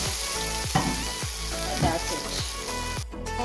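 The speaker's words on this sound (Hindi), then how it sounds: "अब लगाते हैं तड़का।" Steady, loud sizzling of spices frying in hot oil, crackling continuously with occasional scraping stirs of a utensil.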